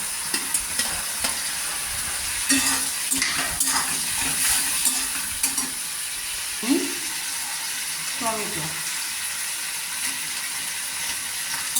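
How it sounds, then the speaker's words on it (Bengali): Potato pieces stir-fried in an oil pan while cooking a country-chicken egg curry, giving a steady frying sizzle with repeated scraping and stirring knocks and a little voice in the background. "এখন আমি আলুর টুকরোগুলোকে আরেকবার কষিয়ে নিচ্ছি।"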